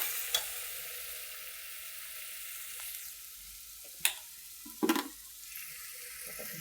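Chilli powder being stirred in a sizzling pan, a faint soft hiss with a few sharp scrapes and clinks of the spoon against the pan, quiet and close.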